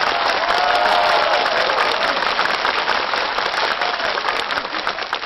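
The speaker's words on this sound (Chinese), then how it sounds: "掌声有请。" A studio audience applauds a dance teacher guest as she is welcomed onto a comedy talk-show stage, loud, dense clapping that holds steady and then slowly tapers off.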